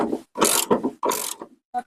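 Mechanical ratcheting and grinding bursts from a tool extracting a broken-off bolt on a deer-damaged Dodge Neon, three loud close rasping strokes with short pauses and a final brief click.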